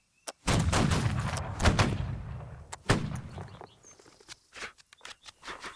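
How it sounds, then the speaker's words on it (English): Guns fire together in a video game: one sharp shot, then a loud, dense volley that rolls and rumbles. A few more crisp single shots follow and fade into scattered faint reports. "Take aim, prepare to fire. Fire."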